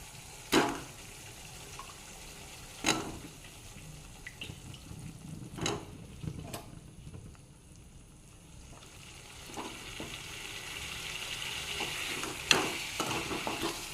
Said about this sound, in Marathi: हे छान तिखट मीठ तेलामध्ये छान शिजलेलं आहे यामध्ये मी आता ह्या आंब्याच्या कोळी टाकत आहे